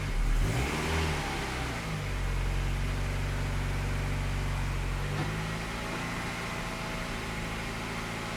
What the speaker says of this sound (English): So when driving the car up the ramp, it feels a little bit longer than expected